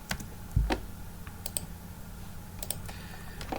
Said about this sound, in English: I'll hit the enter key on my keyboard